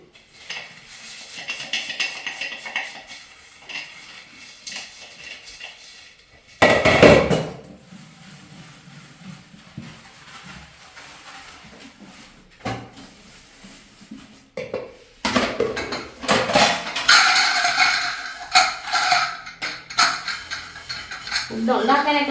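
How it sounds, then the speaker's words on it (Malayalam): Dishes, pots and pans being washed in a home kitchen sink, with clattering metal, scraping and running water in uneven bursts, loud clanks near the middle and a busier stretch toward the end. "ആദ്യത്തെ കുറേ പാത്രങ്ങൾ കഴുകിയിട്ടേക്കാണ്"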